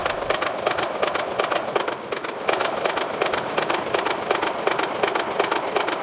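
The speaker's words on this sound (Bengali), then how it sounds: "সামনে যাইয়ে ট্রেনের একটা সুন্দর ফুটেজ লইলাম" A passing train rattles by at close range with steady, rhythmic clattering of wheels over rail joints, loud and continuous throughout with no voices.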